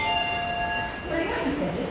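Busy railway platform ambience with a steady rumble, a high tonal whine fading out, and people talking in the background.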